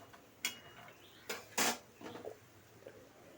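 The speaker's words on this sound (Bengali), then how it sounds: "এখন আমি একদম শুকনো খোলায় এই যে রসুন আর পেঁয়াজ, শুকনো লঙ্কা, এগুলো কিন্তু আমি নেড়ে নেব।" Garlic, onion and dried chillies are stirred in a dry pan without oil, producing a few sharp, close clinks and scrapes of utensil on metal, spaced irregularly with quiet gaps between.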